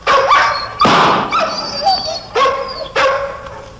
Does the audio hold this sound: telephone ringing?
no